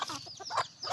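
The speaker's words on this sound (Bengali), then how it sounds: "মোরগ মুরগি দুটাই আছে" Domesticated wild hill chickens, both roosters and hens, clucking close by in a few short bursts, with no talking.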